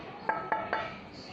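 A large glass cup and a pot are handled, giving three quick, bright clinks a fraction of a second apart, fairly close and moderately loud, followed by a faint fading ring.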